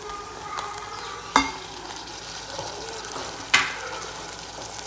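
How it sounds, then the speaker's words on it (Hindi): About half a kilo of minced meat with a large chopped onion fries and browns in a pan, giving a steady close sizzle with two sharp clanks of a spoon against the pan. "कीमा हमारा ब्राउन हो रहा है"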